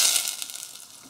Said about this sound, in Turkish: Biraz da domates kavrulsun